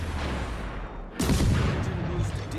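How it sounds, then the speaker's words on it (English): Warship guns fire in the naval battle game World of Warships: Legends, aimed at the G101. A sudden loud boom and a rumbling salvo break over a low background of battle noise. "He gets shots out on the G101"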